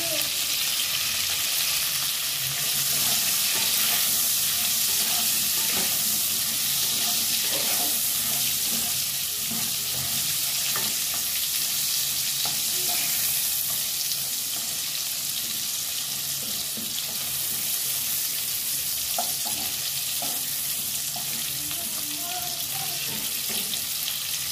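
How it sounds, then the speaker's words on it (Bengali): Pieces of pointed gourd (potol) seasoned with salt and turmeric frying in a pan: a steady, dense hiss of oil sizzling throughout, with faint scattered crackles and occasional clinks, no talking. "এবার পটলগুলো ভেজে নেব।"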